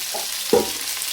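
Onions and green chillies frying with garlic give off a steady close hiss of oil, with a single brief stir or clink midway through the short burst.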